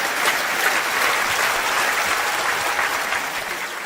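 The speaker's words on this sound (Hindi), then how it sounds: "आइए ताली बजाइए जोर से" Loud, sustained applause from an audience at a motivational talk, steady dense clapping filling the whole stretch with no gaps.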